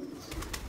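A pigeon on a rooftop loft gives a few short soft coos close by, three quick pulses in under a second.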